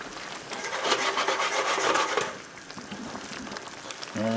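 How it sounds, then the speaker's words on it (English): Roasted garlic goes into tomatoes cooking in a pan for a pasta sauce, bringing a close, steady rasping scrape and stir with a sizzle underneath that eases off midway, then a brief clatter at the end. "I'm going to add a nice little bit of roasted garlic."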